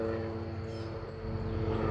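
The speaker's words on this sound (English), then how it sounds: "That was a life flight helicopter." A life flight helicopter passes overhead with a steady droning rotor and engine hum that grows slightly louder toward the end.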